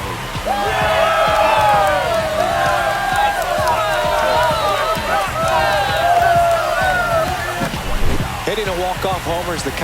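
A stadium crowd in MLB The Show 25, Yankees versus Rangers, roars steadily after a walk-off home run, with rising whoops and a broadcast commentator talking over the noise.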